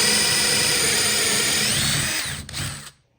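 A power drill fitted with a 3/8 inch spade bit bores into wood indoors, a loud steady whine running continuously before winding down and stopping abruptly near the end.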